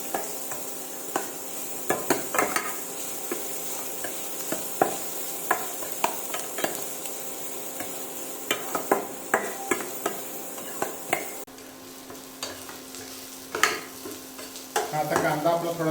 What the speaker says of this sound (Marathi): कांदा मऊ होईपर्यंत आपण याच्यामध्ये शिजवून घेऊया त्याला